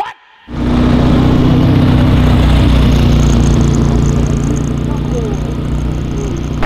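A Mitsubishi Lancer engine revs hard in front of police, bursting in after a brief quiet into a loud, sustained, close roar that holds steady to the end.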